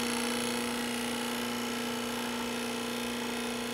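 Restored 1950 Craftsman drill press running steadily, a smooth continuous motor hum with a strong tonal whine, alone and unchanging throughout.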